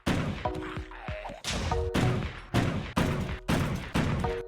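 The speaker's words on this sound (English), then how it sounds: "I had to make a second gun, which was a 2-barreled shotgun." Double-barreled shotgun firing in a Minecraft survival game, a rapid series of six or seven sharp loud blasts with short gaps between them.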